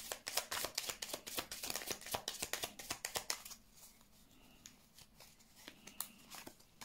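Tarot cards are uncovered and handled at close range: a quick series of crisp paper rustles, slides and taps for a few seconds, then sparser, softer handling in a quiet room.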